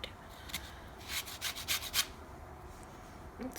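Lemon rubbed against a grater to remove zest, a quick series of about five short, close scratching strokes, then quiet with faint room noise.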